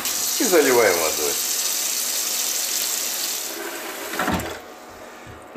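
Water runs from a tap into a dish of dried fish roe in a steady stream, then stops, followed by a few small clinks.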